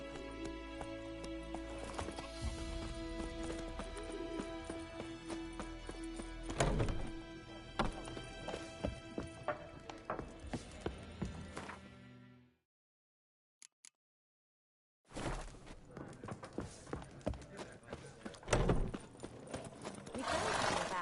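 Geralt's horse Roach clip-clops along in The Witcher Wild Hunt, hooves thudding in a steady trotting rhythm with game music, then a brief silence before the hoofbeats resume.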